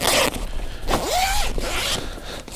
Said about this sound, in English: let's open up this backpack and get to the blind inside